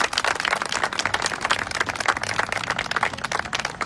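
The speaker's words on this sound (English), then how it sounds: "let's give those folks a round of applause" Park celebration audience applauding, a steady dense patter of many hands clapping outdoors, sustained and moderately loud throughout with no speech over it.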